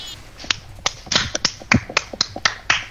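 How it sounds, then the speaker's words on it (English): Sharp, separate hand claps or snaps, about a dozen in an irregular rhythm, close and fairly loud with no talk over them. "That was me clapping."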